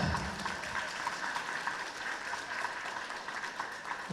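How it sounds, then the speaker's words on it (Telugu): Steady applause from a crowd at a political party meeting, a dense wash of clapping without pauses, moderately distant and even in loudness throughout. "గట్టిగా కొట్టండి చప్పట్లు గట్టిగా"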